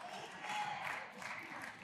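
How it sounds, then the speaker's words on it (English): Women in an audience at a faith talk clap briefly, a faint, soft patter of applause heard from a distance. "Dang, the women are clapping."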